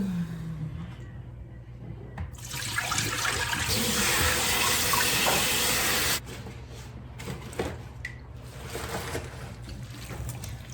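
Tap water pours into a bowl to soak fresh spinach in a home kitchen, a steady rushing stream that swells for a few seconds and then drops to a softer trickle and splashing.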